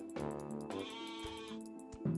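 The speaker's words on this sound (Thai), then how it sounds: "มีแกะสีดำด้วย" A black sheep in the Mini World: Block Art video game gives repeated bleats, loud and near, a long quavering cry in the middle flanked by shorter calls, heard alone.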